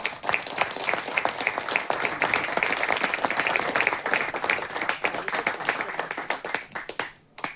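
A church congregation claps together in a fast, steady rhythm, loud and close, with faint voices mixed in, then the clapping fades away at the end.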